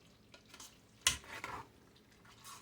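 A spoon scrapes and stirs food in a pot on a stovetop burner set to medium low, one sharp clack followed by a few soft scraping strokes against quiet low sizzling.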